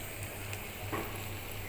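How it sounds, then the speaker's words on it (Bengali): Capsicum, carrot and onion frying in a pan, giving a faint, steady sizzle with a slight stirring shift midway, heard alone. "আর ক্যাপসিকাম, গাজর আর পেঁয়াজটাকেও আবার ভেজে নিচ্ছি।"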